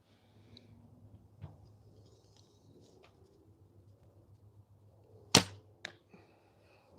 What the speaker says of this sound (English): I can hear that arrow cruising through the sky